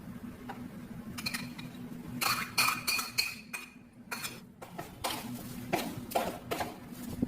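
Beaten egg is stirred into minced beef for Peshawari chapli kabab, giving a run of soft clinks, ticks and scraping knocks from a utensil against a bowl. The bursts are close and irregular, with pauses between them.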